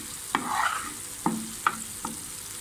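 Masala for goat head curry fries in a pan under a soft sizzle while a spoon knocks and scrapes through it about four times, close by and without talk.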